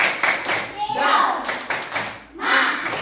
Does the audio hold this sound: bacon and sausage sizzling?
no